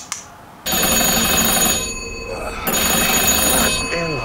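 A telephone ringtone sounds loudly in two long bursts with a short gap between, electronic and trilling, with faint voices around it.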